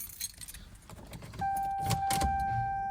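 A bunch of car keys jangles close by in a garage beside a 2JZ engine fitted with a Holley Terminator X system, then a steady electronic tone begins as the ignition is switched on and the system primes. Nobody speaks.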